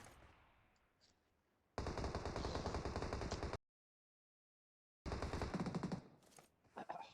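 Automatic gunfire in the battle-royale game BGMI, two dense bursts of rapid shots separated by a short silence, loud and close, with a few scattered sharp cracks at the end.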